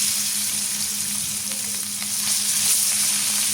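Sarpunti fish frying in a hot pan, a steady close sizzle with faint crackling that runs without a break.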